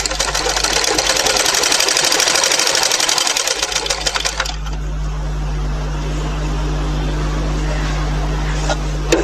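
A sewing machine stitches a baby cap in a rapid, steady mechanical run for about four seconds, then stops, leaving a low steady hum.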